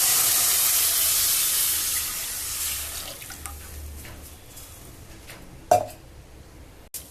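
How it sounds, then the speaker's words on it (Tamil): Dissolved tamarind water pours into a pan in a continuous watery rush that gradually tapers off, followed by a brief clatter near the end. "இப்போ கரைச்சி வச்ச புளியை ஊற்றணும்"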